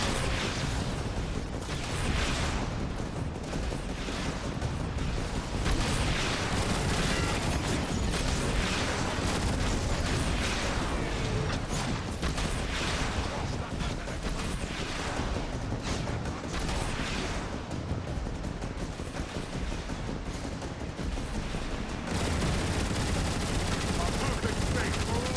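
Turret gunfire in the video game Transformers: War for Cybertron, a dense, steady barrage of rapid shots and explosive bursts running loud and nearly continuous for the whole stretch.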